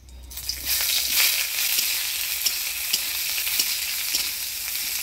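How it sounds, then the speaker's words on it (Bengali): Chopped onions sizzle and fry steadily in hot tempered oil with dried red chilli and radhuni for a Bengali greens curry, a dense close crackle with occasional stirring scrapes and no talk. "ফোড়নের তেলে পেঁয়াজটা ভাজা ভাজা করে নিলাম।"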